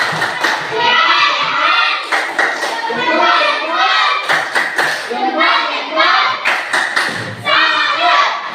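A group of children claps together in a rhythmic "tepuk salut" cheer pattern while chanting loudly in unison in a classroom.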